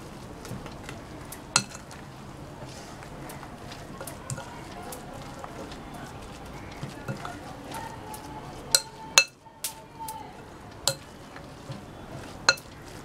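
Corn cutlet mixture being stirred together with chaat masala and salt in a bowl, soft wet squishing under scattered spoon-on-bowl clinks and taps, fairly quiet and close.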